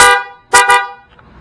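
A Bosch Megasonic car horn being demonstrated in a shop: one long loud blare that cuts off, then two short sharp honks close together, with no other sound around them.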